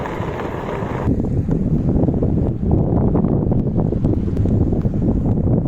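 Rough wind buffeting a microphone, a low continuous rumble with gusty surges, no voices present.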